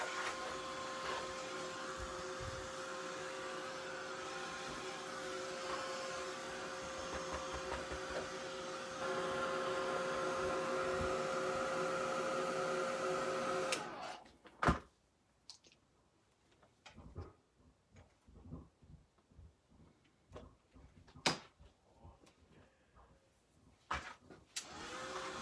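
Drying tool blowing air onto a decorative craft box, a steady loud whooshing drone that cuts off abruptly partway through, leaving quiet clicks and handling noises.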